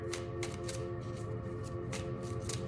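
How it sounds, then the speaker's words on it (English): Tarot cards are shuffled by hand in a rhythmic series of crisp riffling bursts, repeating several times close up over a steady low background hum. "One more shuffle."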